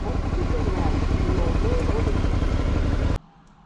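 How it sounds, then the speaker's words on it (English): A parallel twin motorcycle engine runs loud and close with a steady, rough drone for about three seconds, then cuts off abruptly, leaving near silence. "Oh, that motor sounds great. I love it. Stupid parallel twin. It's the best engine design."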